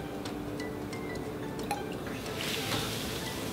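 Red solution from a Barbie chemistry set pours into a green solution, a soft continuous liquid trickle with a few drips, close and moderately quiet, swelling briefly near the end.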